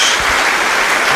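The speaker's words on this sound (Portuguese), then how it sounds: "Dê uma salva de palmas a Jesus." A church congregation applauds in a dense, loud burst of clapping that fills the whole short moment, with no talk over it.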